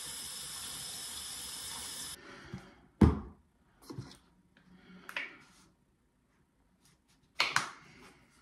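Water runs steadily from a tap or shower for about two seconds in a bathroom, then stops, followed by scattered thumps and handling sounds and a brief final splash of water.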